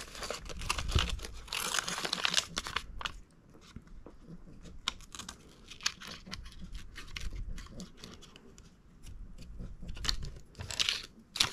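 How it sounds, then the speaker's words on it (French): Scissors cutting around dried paper butterfly wings for a wire-framed butterfly craft, a steady close run of crisp snipping and paper crinkling with continuous rustle throughout. "Donc une fois qu'on a nos ailes qui ont séché, on vient tout simplement découper"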